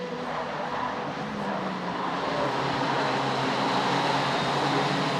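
OK Junior racing karts scream around a track in a WSK Super Master Series prefinal, a continuous high engine whine from several karts blending into a loud, steady roar with no clear pass-by breaks.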